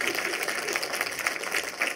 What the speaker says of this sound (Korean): 박수 한번 더 칠게요